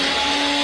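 A steady, loud motor whine with a fixed pitch, like a blender running continuously with no pauses.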